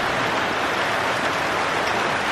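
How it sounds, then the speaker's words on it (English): Heavy rain pours down outdoors, a dense, steady hiss of drops close by, loud and unbroken for a couple of seconds with no talking. "pissing down with rain."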